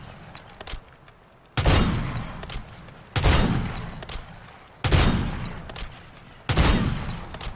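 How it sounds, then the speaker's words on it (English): Sniper rifle fire in Call of Duty: Modern Warfare III on PS5: four loud, close single shots at even intervals of roughly one and a half seconds, each a sharp crack followed by a rolling tail. "this is the sniper I use"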